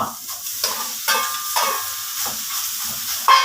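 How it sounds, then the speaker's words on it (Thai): Minced pork sizzles and crackles in a hot pot, with several scraping stirs cutting through the steady frying hiss. "ใส่ หมูลงหม้อ"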